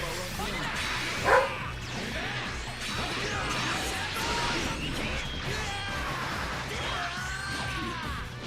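A dog barks in short bursts from inside a sister's room, muffled and somewhat distant, mixed with a sharp knock and game sounds while someone talks.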